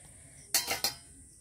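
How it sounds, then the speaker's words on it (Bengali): A metal spatula scraping and clinking against a pot while egg and potato curry is stirred, cooked on an outdoor clay stove: three quick close scrapes in a row, then quiet. "এবার খুন্তির সাহায্যে একটু ডিম আলুটাকে নেড়ে নিচ্ছি"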